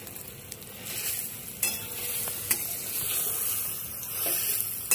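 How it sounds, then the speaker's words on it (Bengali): Chana dal and matar dal hitting hot oil in a pan, a bright steady sizzle with a few sharp clatters of spatula and grains, close up and without speech. "তেলটা গরম হয়ে গেছে, এবার ছোলার ডালটা আর মটর ডালটা দিয়ে দেবো।"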